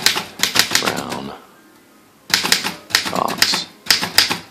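Typing on a 1954 Erika 10 typewriter, loud close key strikes in quick bursts with a pause of about a second between runs, no talking.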